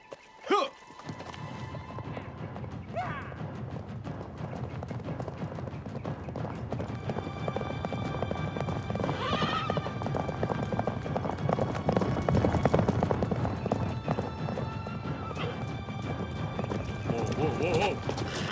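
Many horses gallop in a constant rumble of hoofbeats, with loud neighs and whinnies rising over the din and voices calling out.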